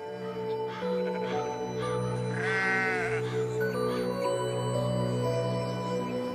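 A flock of about 1000 ewes bleats several times against a steady low hum, one call standing out loud and wavering in the middle, in the Vercors, France.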